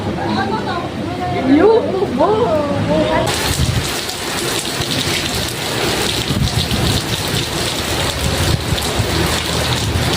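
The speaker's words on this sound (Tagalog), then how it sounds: "May ulan." Steady heavy rain hisses close by, with people talking briefly at the start before the downpour takes over.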